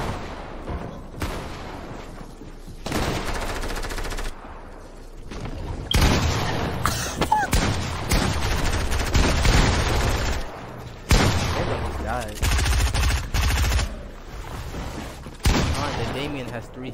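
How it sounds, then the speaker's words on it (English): Fortnite gunfire in a zone wars match: bursts of shots and booms in repeated loud clusters, mixed with game sound effects over about seventeen seconds. "Did they shoot each other at the same time?"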